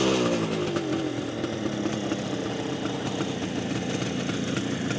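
A restored 1972 Kawasaki H2 750 Mach IV two-stroke motorcycle engine runs steadily, a loud, buzzy, close drone with a rattling edge that holds without pause.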